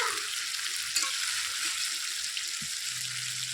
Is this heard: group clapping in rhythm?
no